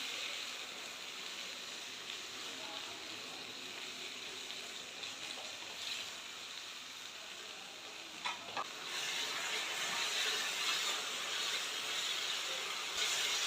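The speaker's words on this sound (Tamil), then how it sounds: "வெங்காயம் தக்காளி இஞ்சி பூண்டை நல்லா வதக்கிடலாம்." Onion, tomato, ginger and garlic sauté in a pan with a steady, close sizzle and hiss that continues throughout, with a brief scrape of stirring partway and the frying growing slightly louder toward the end.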